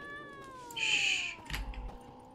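A cat in The Witcher 3 gives one drawn-out meow that slides downward, clear and fairly close, followed by a soft rustle, with no talk.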